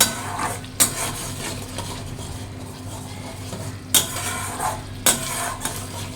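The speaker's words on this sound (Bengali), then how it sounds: "ভালো করে মশলাটাকে আমি কষিয়ে নেব।" Spice paste of cumin, coriander and ginger paste being stir-fried in a clay pot, with a spoon scraping and clinking against the pot three or four times over a steady low sizzle.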